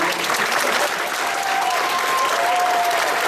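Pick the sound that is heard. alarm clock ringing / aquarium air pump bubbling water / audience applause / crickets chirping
audience applause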